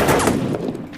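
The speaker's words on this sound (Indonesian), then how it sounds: "ketika mendengar suara tembakan di samping mereka" A burst of gunfire, several sharp shots in rapid succession, loud and close, fading quickly into a brief echo.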